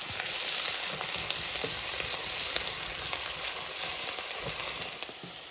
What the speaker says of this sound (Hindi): इनको हम अच्छे से पहले फ्राई कर लेंगे।